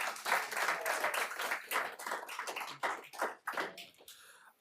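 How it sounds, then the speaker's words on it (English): An audience claps at a public meeting, a steady burst of many hands that swells, thins into scattered claps and fades out near the end, with no talk over it. "How come you clap when he says it, but you don't clap when I say it?"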